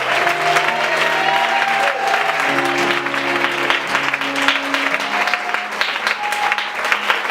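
Loud, sustained applause from a crowd at a night prayer vigil, clapping continuously and densely for several seconds, with some cheering voices mixed in.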